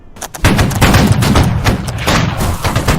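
Loud, close musket gunfire in the Holdfast battle game: a heavy opening volley followed by a rolling, overlapping crackle of shots lasting several seconds.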